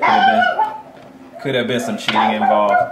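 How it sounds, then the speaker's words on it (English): A pet dog barks in a few short bursts while a person keeps talking over it at close range indoors. "Sorry about my dog."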